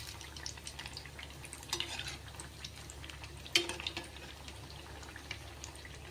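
Round snacks frying in oil over a low gas flame: a faint, soft bubbling and sizzle with scattered small pops and one brief clatter, heard without talk.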